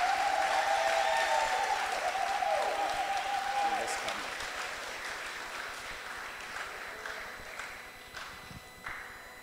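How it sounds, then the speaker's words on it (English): An audience at a Brooklyn temple gathering applauds for Victor Bowman. The clapping starts full and strong, then gradually thins and fades, and a voice sounds over the start. "let's give a round of applause to Victor Bowman"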